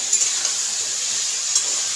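Meat curry with ground spices frying and being stirred in a pan, a steady bright sizzle with a few soft scrapes and clinks of the spoon, close and alone without talk.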